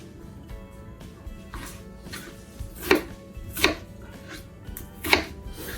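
A knife chops through green tomatoes on a cutting board, with three distinct, sharp cuts spaced about a second apart over a quiet background hum.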